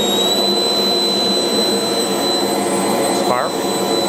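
A pulse jet engine fitted with an augmenter roars steadily and loudly, with a constant high whine running through it and a brief rising sweep near the end.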